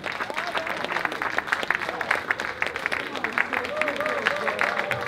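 Audience at a Ghanaian citizenship anniversary celebration applauds, a dense, continuous spread of clapping with voices and cheers mixed in.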